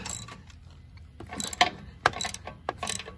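A hand ratchet loosens a 5/8 bolt on a Jeep Gladiator JT winch bracket, clicking in quick, close, crisp bursts with a few sharper snaps.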